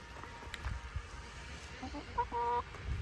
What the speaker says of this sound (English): Brought the apple scraps out for the chickens.